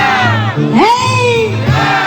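Wedding guests at a celebration in Huanaspampa, Huancavelica, shout loud, close, voiced cheers together in short bursts for the newlyweds, a crowd roar rising and falling in rhythm.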